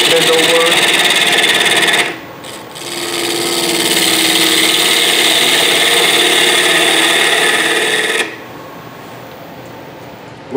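A wood lathe spins a hollow vase blank as a bowl gouge cuts it, giving a loud continuous whirring scrape. The cut eases off briefly after two seconds, then resumes, and quiets near the end.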